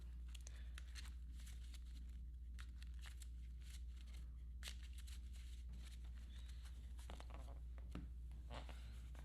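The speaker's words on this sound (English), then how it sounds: "We'll shuffle Zoe's deck back up." A deck of Arkham Horror cards is shuffled by hand, giving quick papery riffles and soft flicks in irregular bursts over a steady low hum, close and quiet with no talking.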